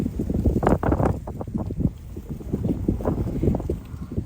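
Gusty wind buffets the microphone outdoors during juniper ground cover planting, a loud, continuous rumbling roar that rises and falls with no speech.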